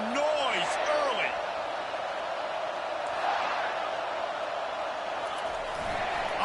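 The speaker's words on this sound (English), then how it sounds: "This crowd bringing the energy and noise early." Steady, loud stadium crowd roar filling a PS5 American football video game, a continuous wash of cheering noise with a few voices and whistle-like calls rising over it throughout.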